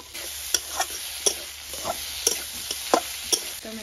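Vegetables frying in oil in a kadai, seasoned with garlic, salt and ginger, with a steady sizzle under sharp, intermittent scrapes and clacks of a spatula stirring, close and fairly loud, no voices.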